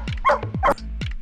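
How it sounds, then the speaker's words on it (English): A dog barks three times in quick succession, sharp and close, with brief gaps between barks. "Sometimes your dog starts barking that turns out to be very noisy"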